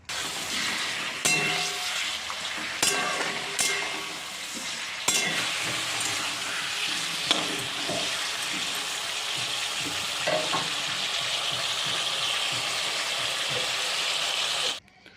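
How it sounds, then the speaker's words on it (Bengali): Chicken pieces frying in mustard oil, a dense continuous sizzle with occasional sharp clinks and scrapes of a stirring utensil against the pan, close and steady throughout, no voices. "এখানে মিনিট চারেক নাড়াচাড়া করে আমরা মাংসটা হালকা ভেজে নেব"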